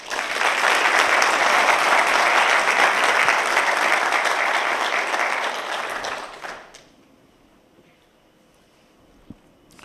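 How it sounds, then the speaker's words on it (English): A conference audience at a Python developer event claps loudly and steadily for about six seconds before the applause fades quickly into near silence, with one faint knock near the end. "Can we have a round of applause for David?"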